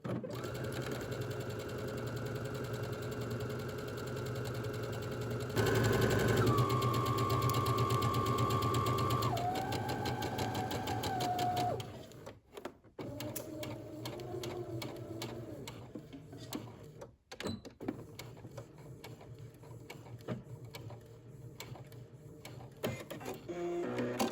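A sewing machine runs a long seam on a shirt dress, moving from the bottom edge up to the neck edge. Its steady motor whine holds for about twelve seconds, changing speed in steps, then gives way to quieter, intermittent stitching and handling noises.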